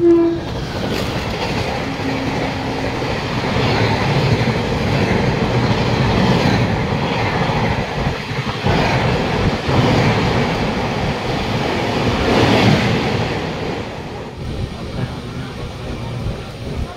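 A train rolls slowly through Lakshannath Road station near the West Bengal–Odisha border, a sustained close rumble with clickety-clack of wheels over the rails and a brief horn blast near the start.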